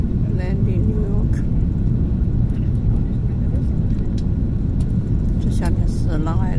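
An airliner lands at JFK Airport in New York, its engines making a steady, loud, unbroken roar throughout, with faint voices in the background.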